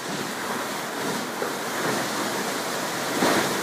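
Ocean waves and wind at night aboard a sailboat surfing down large swells, a steady broadband wash of water and wind noise with no talk.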